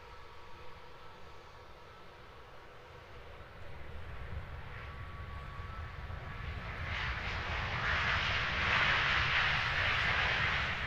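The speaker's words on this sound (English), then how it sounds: "A320 coming in." An Airbus A320 airliner comes in at Christchurch Airport, New Zealand, its distant jet roar swelling from a low rumble into a louder, broad whoosh as it nears.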